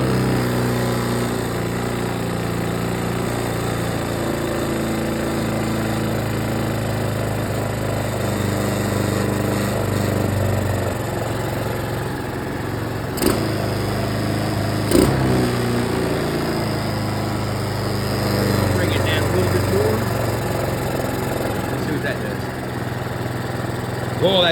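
A small engine fitted with a Chinese carburetor runs at a steady idle, a loud, continuous low chugging drone with slight fluctuations and a couple of brief clicks, close by with no talk.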